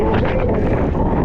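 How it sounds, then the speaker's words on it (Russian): Strong wind buffeting an outdoor microphone on the Crimean coast near Feodosia and Koktebel, a loud, continuous low roar with gusty swells throughout. "Ох ты, ветер, фига себе."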